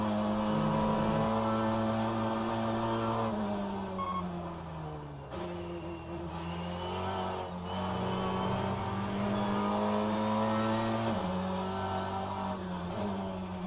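BTCC touring car engine in rFactor 2 racing at Brands Hatch or Donington, loud and continuous, with steady harmonic drone rising and dropping through gear shifts and corner exits, no talk.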